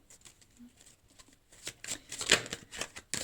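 Tarot cards are shuffled and drawn: soft, faint handling rustles at first, then a denser burst of quick riffling and slapping card sounds close by in the second half.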